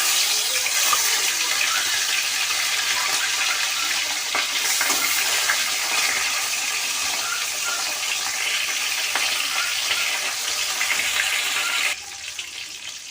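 A Bhooth Chanda fish frying in hot mustard oil in a wok makes a loud, continuous close-up sizzle that stays steady for over ten seconds before dropping slightly quieter.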